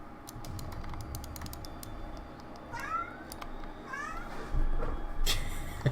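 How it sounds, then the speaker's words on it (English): A cat gives two or three short, rising meows at close range over a steady run of clicking computer-keyboard typing and a low background hum. "now my cat wants to play, so now he's gonna meow a lot"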